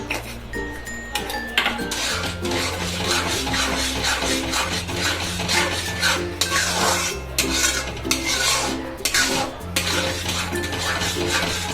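Karachi halwa cooking in a pan over a low gas flame is stirred steadily, giving continuous scraping and rubbing strokes with occasional utensil clinks, over a constant tonal background like music.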